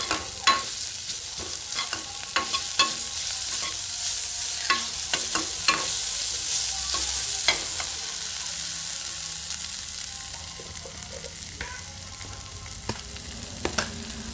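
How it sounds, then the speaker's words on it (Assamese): Onion with ginger garlic paste sizzles steadily in a pan while a utensil stirs and scrapes through it in frequent sharp strokes, close and continuous throughout. "এতিয়া আকৌ অকমান দেৰি ভাজি লম"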